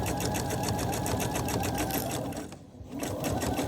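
Sewing machine back stitching a seam on a home decor envelope pillow, a fast, even, steady needle chatter close up, with a brief dip in speed near the end before it resumes.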